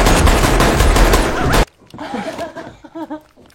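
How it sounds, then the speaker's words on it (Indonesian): A dense, loud burst of rapid gunfire from a film rattles for about a second and a half, then cuts abruptly to quieter voices and brief laughter. "tembakan yang dilepaskan"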